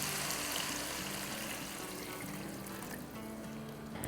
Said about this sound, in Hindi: तो अब इसमें हम डाल देंगे पानी। तो पानी डालेंगे 3 कप।